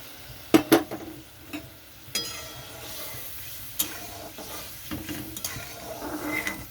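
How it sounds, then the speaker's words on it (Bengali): Prawns dropped into a boiling sour curry, with a couple of sharp splashes and clinks up front, then softer bubbling and stirring noises, close and fairly quiet. "এখানে আমি চিংড়ি মাছ দিয়ে দিচ্ছি"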